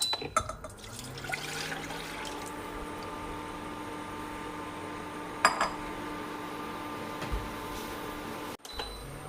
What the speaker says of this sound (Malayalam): ഇനി ബാക്കി ഇരിക്കുന്ന പാല് നമുക്കൊന്ന് തിളപ്പിച്ചെടുക്കണം